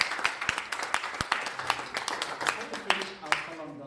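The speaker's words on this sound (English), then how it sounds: "Can we give a round of applause?" Scattered audience clapping at a town hall meeting, a thinner, uneven round of individual claps with distinct sharp hits rather than a dense roar, moderately close and fading slightly near the end.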